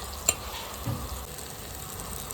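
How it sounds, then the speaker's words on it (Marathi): Finely ground masala paste roasts in oil in a pan, giving a steady soft sizzle with an early sharp tap of a spoon and a brief scraping stir, close and moderate in level with no talking. "आता आपला मसाला मस्त आपण भाजून घेऊया"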